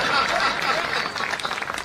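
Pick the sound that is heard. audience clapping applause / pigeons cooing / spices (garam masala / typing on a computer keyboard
audience clapping applause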